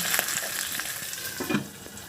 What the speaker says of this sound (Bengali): এবার গ্যাসের ফ্লেম হাই করে মাছগুলোকে একটু নাড়াচাড়া দিয়ে ঢাকা দিয়ে দেবো না হলে মাছের থেকে তেল ছিটতে পারে